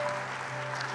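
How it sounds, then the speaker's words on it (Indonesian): A church congregation applauds during a sermon, a dense wash of clapping from many hands, brief and fairly loud. "Lebih dahsyat lagi tepuk tangannya buat Tuhan kita."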